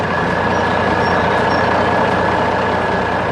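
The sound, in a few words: large yellow construction machine engine working, animation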